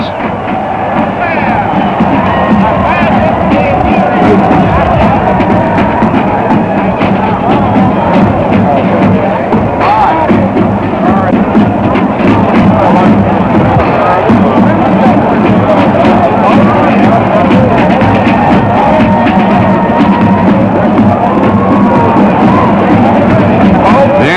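Large crowd of football fans roaring and cheering at the Cotton Bowl in Texas as the Oklahoma Sooners take the field, a dense, sustained wall of voices and whoops from start to finish.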